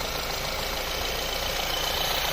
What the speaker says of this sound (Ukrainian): Ось так от працює двигун.